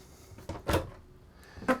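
A pull-out kitchen drawer in a 2012 Monaco Vesta 35 PBD Class A diesel motorhome slides and bumps shut, giving a couple of short, close thuds with no talking.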